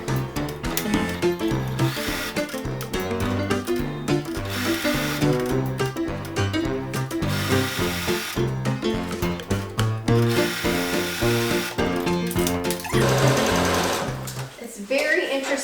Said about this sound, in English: I'm going to be sewing with the taffeta on top and the velvet on the bottom.